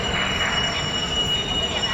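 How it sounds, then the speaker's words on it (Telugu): A train rumbles steadily nearby at Cherlapalli railway station, with a high metallic wheel squeal ringing over the continuous clatter and roar of rail cars. "ఇది మన చర్లపల్లి రైల్వే స్టేషన్"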